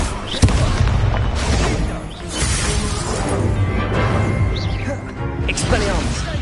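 A fire spell is cast during a wizard duel in a video game, heard as a sharp burst followed by crashing, crackling booms and rumbling. The sound continues loudly and densely, with voices speaking over it.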